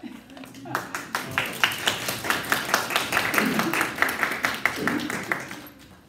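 A crowd applauds steadily, many hands clapping in a dense patter that builds and then fades out after several seconds.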